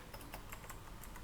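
Computer keyboard typing while coding in the Unity game engine: a quick run of light, irregular key clicks with no one speaking.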